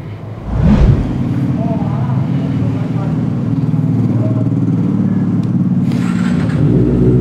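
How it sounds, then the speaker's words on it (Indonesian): A Kawasaki ZX25R motorcycle fitted with a replaced aftermarket exhaust revs up sharply after a quiet start, then holds a loud, rough, buzzing engine note while riding, with wind noise and brief speech mixed in. "knalpotnya sudah diganti, jadi suaranya bakalan lebih sangar lagi"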